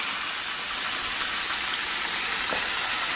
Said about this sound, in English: the sound of the chicken has already changed. It's frying better since there's not so much oil in it.